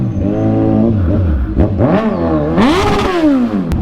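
Passing cars and motorcycles near a motorcycle service shop rev their engines, rising and falling in pitch through several close, loud accelerations with no talk.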